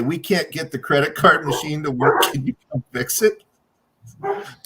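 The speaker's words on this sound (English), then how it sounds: "dogs are barking in the background" Dogs bark in the background behind a man's continuous nearby speech, with a few short, fairly loud bursts standing out between and under his words.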